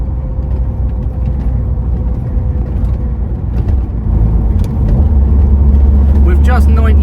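A 1982 Ford Escort XR3 with its 1.6 engine drives along a road, a steady cabin drone that builds as it accelerates toward the end, with someone talking over the engine.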